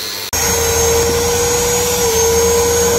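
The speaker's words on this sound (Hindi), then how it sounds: "भाई साहब ये चल रहे ड्रिल" A power drill runs during work on a Mahindra Bolero. After a brief pause, it starts up and holds a loud, steady motor whine close by.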